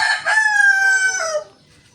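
A backyard rooster crows once, loud and close, a single drawn-out call that holds and then trails off into quiet.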